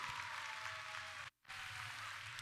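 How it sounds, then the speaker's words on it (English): An audience at a robotics competition opening ceremony in Sammamish applauds, a dense, steady wash of clapping with a brief dropout near the middle. "please give a thunderous round of applause to my friend and partner and your game announcer, Josh Clark"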